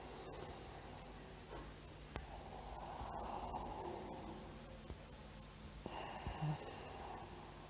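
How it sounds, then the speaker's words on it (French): Slow, soft exhaling during a morning yoga stretch, a faint close breath through the nose rising and fading in a quiet room, with light rustling. "et j'expire"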